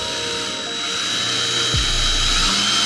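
A power drill drives a screw into a garage ceiling to hang a motorcycle display fixture, with a continuous high whine that rises to a louder, strained buzz near the end.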